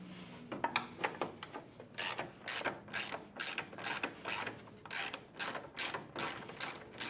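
A ratchet loosening 10mm headlight bolts on a Jeep, rapid bursts of close clicking repeated in quick rhythmic strokes, loud and alone with no talk.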